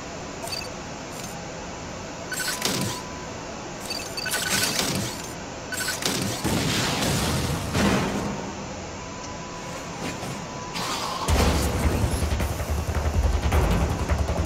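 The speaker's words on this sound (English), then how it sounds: "Why not say hello with a missile?" Missile launches and blasts from the Wii game Metroid: Other M: several sharp, booming bursts spread over the stretch, set against a steady bed of game music and ambience.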